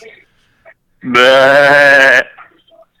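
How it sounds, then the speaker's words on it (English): A single loud, drawn-out sheep bleat lasting about a second, strongly harmonic and wavering, with faint background noises before and after. "Okay, that was a sheep."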